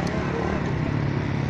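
Motorcycles in an Eid Milad-un-Nabi procession passing near a university rumble and clatter continuously at close range, a dense, steady engine drone with no pause.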